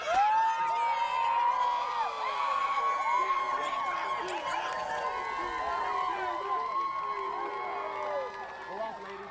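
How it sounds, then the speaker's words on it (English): A football team gathered on the field during a preseason sideline show, shouting and whooping together in a loud, sustained crowd of cheering voices. "Can we bring up the volume and hear these guys cheering?"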